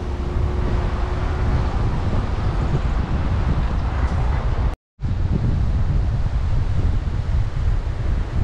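Sea waves roar steadily at the beach in Jeddah, Saudi Arabia. The sound is a loud, constant broadband wash mixed with wind buffeting on the microphone and broken by a brief dropout midway.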